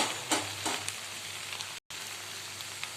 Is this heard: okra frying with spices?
yes